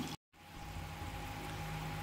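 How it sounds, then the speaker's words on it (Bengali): Balls of potato and egg sizzle in hot frying oil with a soft, continuous crackling hiss, close and fairly quiet, broken by a brief silent gap near the start. "এগুলো বলগুলো এবারে তেলে ভেজে নিচ্ছি।"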